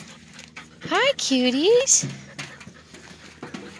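Golden retriever puppies riding in a wheelbarrow whimper and pant with short whiny yips, close by, while someone talks to them in a high, cooing voice.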